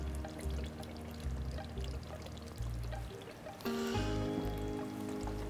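Ghee poured into a pot of beef during cooking, a continuous liquid pouring and trickling sound with a louder burst near the end, heard up close and alone.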